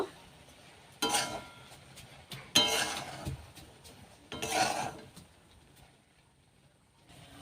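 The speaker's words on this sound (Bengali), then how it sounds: "এবার আবার একটু নেড়ে দেব" Rice for kanika bhog is stirred in a pot over a low flame after the lid comes off. Three separate bursts of metallic scraping and clinking sound close, with quiet pauses between them.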